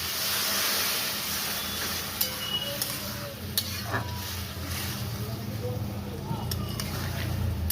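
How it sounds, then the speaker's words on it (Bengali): Water poured into mustard paste frying in a pan for an okra and potato curry, giving a steady low sizzle and bubbling with a few clinks of stirring; fairly quiet and continuous. "কেন সরষা বাটা বেশি ভাজতে নেই, ওই জন্য আমি জল দিয়ে দিচ্ছি"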